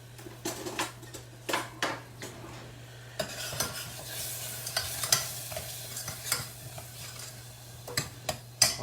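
About two tablespoons of ginger garlic paste frying in hot oil in a pan, with a steady sizzle under repeated spoon scrapes and stirring knocks against the pan at a loose, regular pace.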